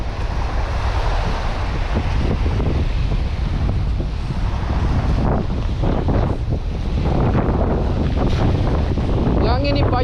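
Strong wind gusting and buffeting the microphone at sea while a shrimp net is cast from a boat, a loud continuous roar with water sounds beneath and a voice briefly heard.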